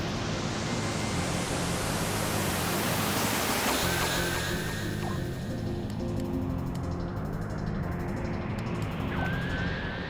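A synthesized noise instrument with echo in LittleBigPlanet 3, heard alone as a loud, steady wash of hiss with faint repeating tonal sweeps for about ten seconds.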